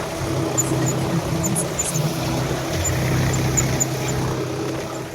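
Tractor engine running in a farm field beside a pond, a steady low droning hum that holds at an even level throughout, moderately near, with no talk.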